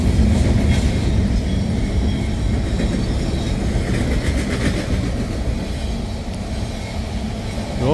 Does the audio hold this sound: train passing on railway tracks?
yes